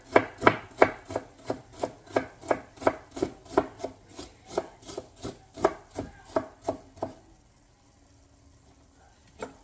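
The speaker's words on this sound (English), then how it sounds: "that is how I chop up my onions" A knife chops onions on a board in a steady run of about twenty evenly spaced crisp strokes, close and distinct, then falls quiet.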